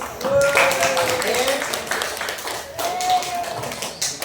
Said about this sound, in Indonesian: Sekali lagi kita tepuk tangan untuk.